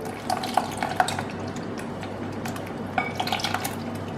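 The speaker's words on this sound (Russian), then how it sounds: "Добавляю мед. Перемешиваю." Honey is stirred into Japanese-style sponge pancake batter in a bowl, with a steady wet, sloshing stir and a few light clinks of the utensil against the dish.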